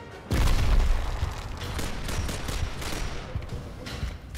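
A grenade blast and a burst of rapid gunfire from the video game Gears of War: a sudden loud boom, then a sustained clatter of shots and thuds.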